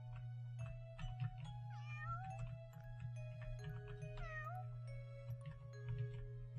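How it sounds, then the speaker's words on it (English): A cat character in the video game Here Come The Mystery Teens meows several times in short, rising calls over a low steady background hum. "I feel like we've meowed at everything."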